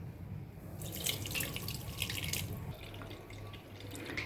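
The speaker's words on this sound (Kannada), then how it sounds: "ಈಗ ಇದನ್ನು ನಾವು ಸ್ಟ್ರೈನರಲ್ಲಿ ಸ್ಟ್ರೈನ್ ಮಾಡೋಣ" A health juice paste strained through a strainer gives a steady trickle and splash of liquid, soft and close, with a brighter patter of dripping in the middle.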